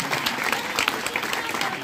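Students clapping at a school constitution event, a brief, dense burst of hand claps from a group filling the space at moderate loudness.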